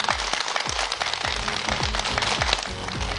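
A studio audience at a Beijing TV matchmaking show breaks into loud, dense applause that holds steady throughout, with rhythmic low thumps running underneath.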